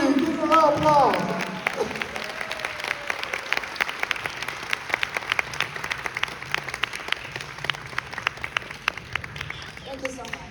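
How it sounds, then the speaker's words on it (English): A crowd at a live stage event in Penang applauds as a performer is welcomed, steady dense clapping with a few sharp individual claps standing out, some voices and cheers at the start. "Give a round of applause."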